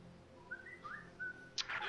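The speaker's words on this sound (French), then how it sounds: "C'est mon portable qui siffle." A mobile phone sounding a whistle-like alert, a few short, faint rising and gliding tones, followed by a brief burst of louder noise near the end.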